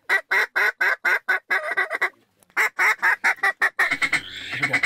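Rapid series of loud, close duck quacks from a call during a duck hunt, clipped bursts in quick rhythm with a brief pause, then a longer trailing raspy call.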